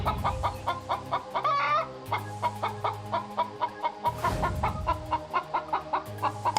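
A cartoon chicken clucks in a Bengali fairy-tale animation: a close, rhythmic series of short, regular clucks, with a couple of louder squawking bursts in between.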